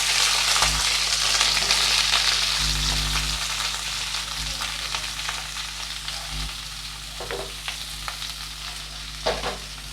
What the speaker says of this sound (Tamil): அதில் இப்போது நம்ம எல்லா காய்கறியும் நம்ம போட்டுக்கலாம்.